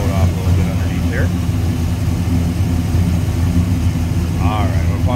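A 1957 Chevrolet Sedan Delivery street rod engine idles smoothly with a steady low rumble, close by, while a person talks over it.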